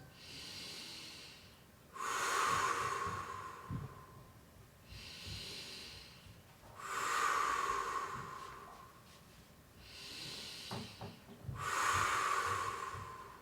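Deep, slow breathing during a stretching exercise: three long, close, audible breaths, each a loud airy rush lasting a couple of seconds and spaced evenly with quiet gaps between them.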